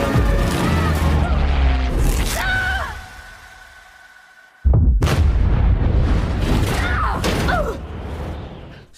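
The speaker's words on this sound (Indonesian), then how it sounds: "Setelah Garrett terlempar akibat ledakan pesawat itu, dia pun berhasil ke kabin pesawat tersebut." An airplane explodes in the 2020 film Shadow in the Cloud, with loud, heavy booming blasts and rumbling debris, a brief lull, then a second powerful crash of noise.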